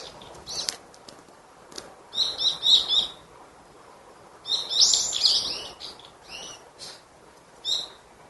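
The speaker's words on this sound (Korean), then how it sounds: "월미산의 새소리였습니다" Small mountain birds chirp and tweet in bright bursts on Wolmisan in Incheon, with several clusters of song coming in waves over quiet natural background, fairly near and clear.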